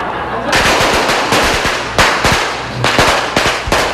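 Firecrackers burst in a dense, rapid string during New Year celebrations, loud and close, with sharp cracks overlapping almost continuously and a few heavier bangs standing out.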